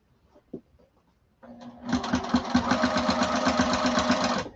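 A sewing machine stitches a duffle bag exterior, starting with a few clicks and then running steadily and loudly with a fast, even mechanical chatter and hum.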